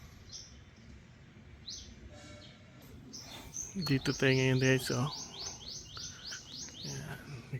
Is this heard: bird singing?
yes